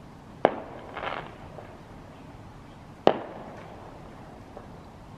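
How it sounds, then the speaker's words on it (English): Two sharp fireworks bangs about two and a half seconds apart in Manchester, each trailing off in a rumbling echo, with a softer crackle between them. "Why is there fireworks?"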